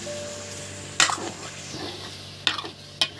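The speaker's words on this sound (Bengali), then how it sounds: "বন্ধুরা এবার সিদ্ধ আলু কড়াই দিয়ে দিচ্ছি" Boiled potatoes fry in a kadai over a wood-fired clay stove, a soft sizzle broken by three sharp scraping stirs of a spatula against the pan, fairly quiet and without talk.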